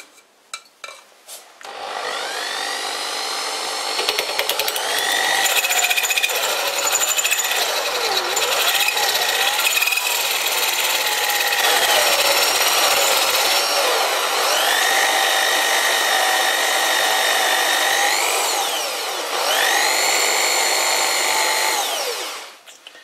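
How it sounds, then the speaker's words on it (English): Drilling a cross hole on a lathe, a continuous whining, squealing cut with shifting tones that runs steadily for about twenty seconds before stopping. "It's hard to see how deep I've drilled"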